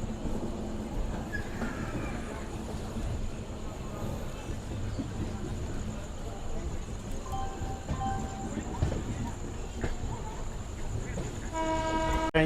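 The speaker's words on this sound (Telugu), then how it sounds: "ట్రైన్ వచ్చేసి 7:05 అయితే బయలుదేరిపోయింది కాచిగూడ నుంచి అయితే" An LHB-coach Kacheguda–Mysuru SF Express pulls out with a continuous rumble of rolling rail cars and a brief horn toot near the end, heard from on board at moderate level with a voice talking.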